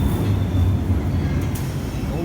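A London Underground Bakerloo line train gives a loud, steady low rumble at a platform, with a faint high squeal partway through.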